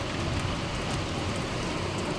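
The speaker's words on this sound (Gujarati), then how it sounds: "અને જો વરસાદ પાછો આવી ગયો" Steady heavy rain falls in a village during a downpour, a dense continuous hiss of drops hitting surfaces, close and loud throughout with no voices.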